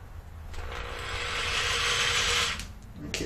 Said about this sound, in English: if I drill here, like so, all should be well